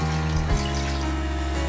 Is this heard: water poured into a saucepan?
yes